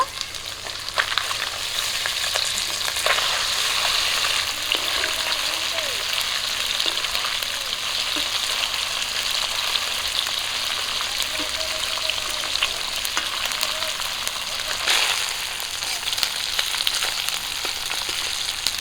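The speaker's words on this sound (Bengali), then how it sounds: "সব মাছ একবারই ভাজা হয়ে যাবে তাই সব মাছ দিয়ে দিয়েছি কড়ার মধ্যে" Singhi fish fry in mustard oil in a wok, a steady crackling sizzle with occasional stirring scrapes, close and fairly loud across the whole stretch with only faint background voices.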